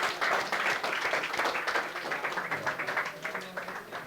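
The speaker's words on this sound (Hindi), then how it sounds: "इसके लिए ताली बजा दो यार एक बार।" A group claps together in a classroom-style gathering, a dense, steady burst of applause that fills the whole span at fairly even loudness with no talk over it.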